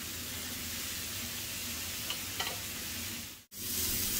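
Mushrooms cooking in a pan give a steady, even sizzle with a couple of faint pops, ending in a brief cut to silence before the sizzle resumes.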